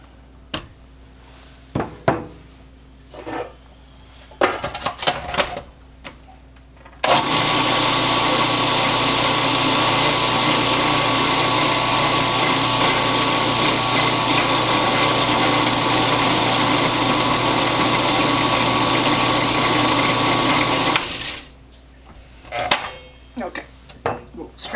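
An electric mixer beats magic bar batter in a kitchen, a steady loud whir running for about fourteen seconds, framed by quieter clatter and brief talk before and after.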